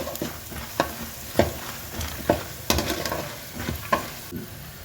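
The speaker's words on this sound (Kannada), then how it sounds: "ಚೆನ್ನಾಗಿ ಕಡಲೆಬೇಳೆ ಬೇಳೆ ಸ್ವಲ್ಪ ಬ್ರೌನ್ ಆಗಬೇಕು" Chana dal frying in hot oil with asafoetida in a pan for capsicum chitranna, a steady close sizzle broken by repeated sharp stirring scrapes and clinks of a spoon against the pan, no voices.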